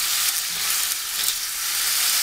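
Liver sizzling steadily in vegetable oil in a frying pan, a dense, even crackle with no voices.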